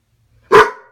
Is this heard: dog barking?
yes